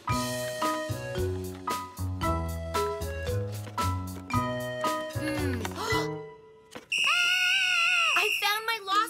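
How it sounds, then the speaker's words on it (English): A cartoon whistle blown in a preschool robot cartoon, a bright sustained shrill tone arriving near the end after a run of plucky, bouncing musical notes. "I found my lost whistle!"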